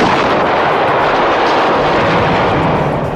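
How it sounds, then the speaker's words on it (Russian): A loud, continuous blast-like roar of a grenade launcher shot hitting a BMP-3 armored vehicle, dense and broadband throughout, with no voices. "Выстрел из гранатомета пробивает БМП-3 буквально насквозь."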